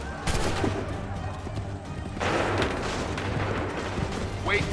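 Musket volleys from massed soldiers in the Assassin's Creed III video game, two heavy ragged bursts of gunfire, the second louder and longer, over a low rumbling backdrop.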